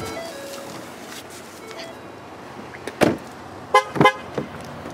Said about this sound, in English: she's honking at me because I took the key out of the car while it's running